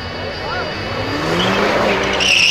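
A BMW launches hard in a street race, its tires squealing in a rising screech over a loud roaring engine, heard at close range.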